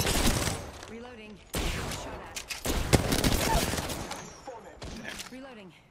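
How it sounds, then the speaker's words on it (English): Gunfire in Apex Legends, bursts of rapid shots with thuds and impacts coming in clusters, loud and close, broken by short gaps, with a voice talking over part of it. "Oh, I'm getting shot from behind now."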